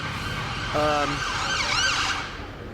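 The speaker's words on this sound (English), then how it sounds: "I can't think when that ambulance is yelling at me" An ambulance siren passes outside, a loud wailing tone sweeping up and down close by over steady background noise.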